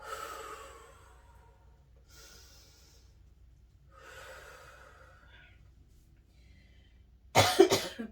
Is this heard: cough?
yes